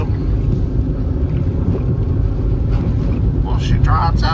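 A 2009 Pontiac G5 coupe with a manual transmission drives along, its steady engine and road rumble loud and constant, with wind buffeting, while someone talks over it.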